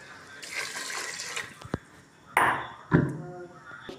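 Water splashes in brief bursts into a cooking pot holding a pot of simmering broad bean seeds, with a couple of pouring gushes and metallic pings from the vessel, fairly close.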